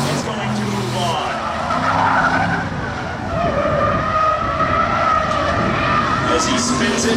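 Race car tires spinning and squealing at a speedway spectator drags event at Seekonk Speedway, a loud, sustained screech with engine roar and crowd noise.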